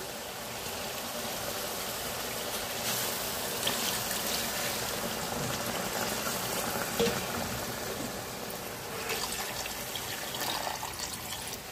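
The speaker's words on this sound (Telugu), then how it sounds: "ఇప్పుడు వాటర్ వేసుకుందాం ఇందులో మనం." Water poured into a cooking pot during preparation of a country chicken gravy, a steady broadband rush and trickle running continuously throughout at moderate level, with no talk.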